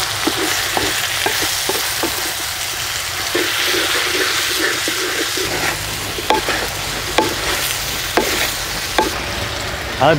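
Pumpkin pieces and fried onions seasoned with turmeric and salt are stirred in a hot pan, with a steady close sizzle and repeated scraping and clacking from the spoon.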